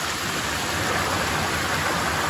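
Abundant clear water from a natural spring at Tanaquillo, Michoacán rushes and splashes in a steady, loud, broadband flow as it starts running through the village toward the river.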